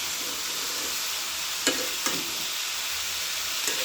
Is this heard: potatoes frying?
yes